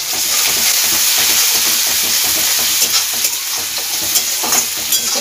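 Chopped ginger, garlic and spring onion frying in hot oil for a jackfruit Manchurian: a loud, close, continuous sizzle and hiss with faint stirring clatter, and no voices.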